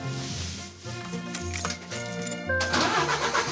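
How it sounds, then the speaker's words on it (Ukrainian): A truck's engine cranks and starts with the ignition inside the cab, a mid-pitched rumble that settles into a steady idle and grows louder near the end, with no talking over it. "Це ви вже завели машину."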